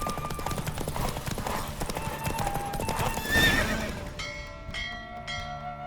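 Horse galloping in a race in The Witcher 3 video game, steady clip-clop hoofbeats with a whinny under a busy game soundscape, fading into ringing bell-like tones near the end; no clear talking.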